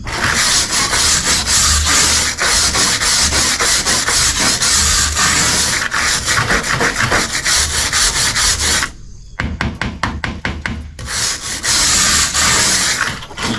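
Steady hand scraping of rust from the metal around the window of a 1970 Chevelle, a loud, continuous rasping scrub that runs nearly throughout, broken once by a brief pause and a burst of quick strokes.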